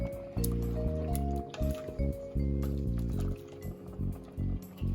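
Beetroot dumplings stirred in a pot of liquid, giving close wet sloshing and squishing pulses against a loud steady low bubbling or simmering rumble, without speech.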